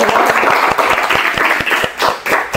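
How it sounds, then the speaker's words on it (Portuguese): An audience at an arts event claps together, sharp individual hand claps standing out over a busy, loud wash of applause that swells and dips briefly. "Muito obrigado e quero os aplausos."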